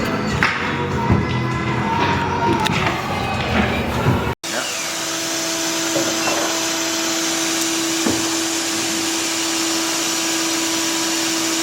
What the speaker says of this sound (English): It's just fan air right now.